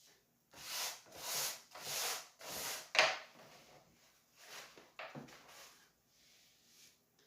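A sponge rubs and smooths the edges of a soft clay plate in repeated back-and-forth strokes, several soft scraping swishes in a steady rhythm, close by and quiet, fading to lighter strokes toward the end.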